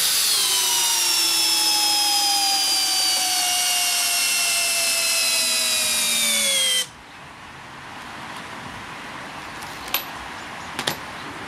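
A Makita cordless drill in first gear whines loudly and continuously, its pitch sagging as it strains, then cuts out abruptly, leaving quiet room tone and a couple of faint clicks.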